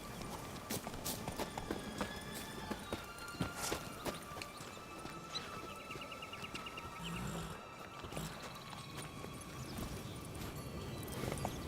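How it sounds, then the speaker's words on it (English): Horse hooves clip-clop at a walk in the video game The Witcher 3, a steady, quiet rhythm of light hoof strikes over faint game ambience. "Let's bring my horse over here."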